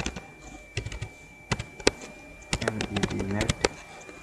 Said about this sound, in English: type a command